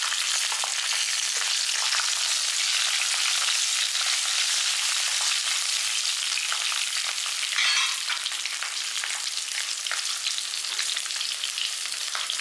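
Pirandai, adamant creeper, sautéing in hot oil with tamarind and green chillies, a steady close sizzle and crackle throughout with faint stirring, no voices.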